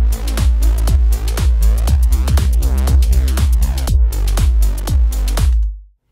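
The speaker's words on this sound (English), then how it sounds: "What it does is just lower down the volume of our signal, in this case the baseline, every time the kick drum is hitting." Synthwave bassline produced in Logic Pro X, sidechain-ducked by a punchy kick drum, so the deep synth bass pumps in a steady rhythm, dipping with each loud kick hit before cutting off at the end.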